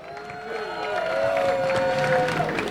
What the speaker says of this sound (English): I want to give a huge round of applause to all the organizers